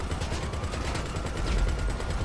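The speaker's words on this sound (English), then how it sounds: "just look at how I'm making short work of these cops in 5 stars with just a machine gun" Machine gun fire from the Khanjali tank in a GTA video game, a fast steady stream of loud rattling shots with no talking.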